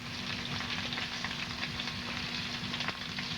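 Shrimp scampi, unbreaded, frying and sizzling in a pan: a steady, close, dense crackle of hot oil with a constant background hum, no voices.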